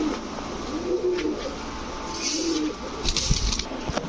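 Pigeons coo in low, soft repeated calls nearby, with a few sharper rustles and taps in the background.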